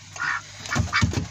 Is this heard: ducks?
yes